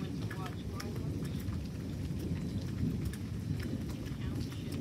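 A heavy thunderstorm with continuous rain hiss and deep rolling thunder fills the scene steadily, dense and loud with no pauses.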